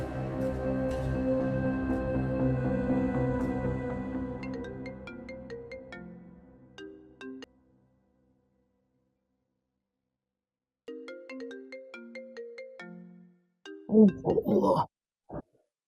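A phone ringtone plays as a loud melodic tune, first in a dense sustained stretch and then in short repeating note patterns, ending in a brief burst of louder sound. The setting is a Pakistani TV drama scene.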